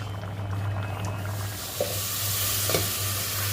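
Shrimp frying in hot oil with onion and garlic gives a steady close sizzle with a few brief stirring knocks.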